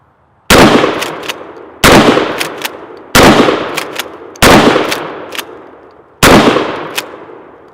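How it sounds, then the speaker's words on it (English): Five loud, close blasts from a Mossberg Shockwave 12 gauge shotgun firing birdshot, spaced about a second or more apart, each with a sharp crack and a short fading echo. "Let's put some birdshot through it."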